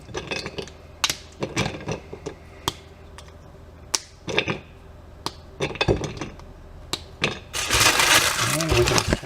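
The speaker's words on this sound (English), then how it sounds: "I'm going to stir this a little more" A spoon stirs crushed 100% dark chocolate as it melts for ice cream, giving irregular sharp clinks and scrapes against the bowl, followed by a burst of louder rough scraping near the end.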